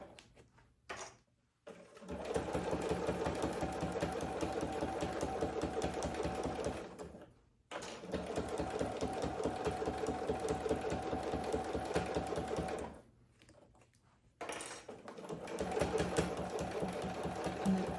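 A sewing machine with dual feed stitches a fabric oven mitt in three long, loud runs of rapid thumping, separated by brief stops, heard up close.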